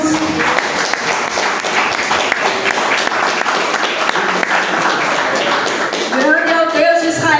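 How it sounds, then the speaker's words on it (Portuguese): Church congregation standing and applauding the Lord, a dense sustained clapping filling the room throughout, with music swelling in near the end. "Pode se levantar aplaudindo ao Senhor em nome de Jesus."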